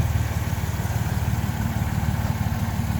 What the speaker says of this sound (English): All the lifters are nice and quiet.